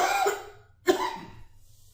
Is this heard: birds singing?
no